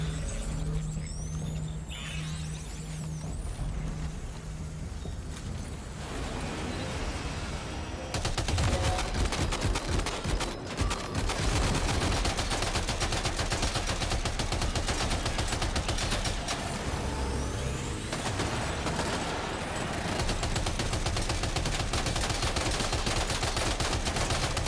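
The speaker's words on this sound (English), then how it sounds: "Excuse me while I get myself the super big assault rifle." Assault rifle gunfire in the video game Death Stranding 2 crackles as sustained bursts of shots over a dense, loud game soundscape with rumbling and mechanical noise throughout.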